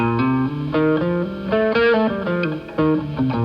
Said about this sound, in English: you're going to hear a major scale.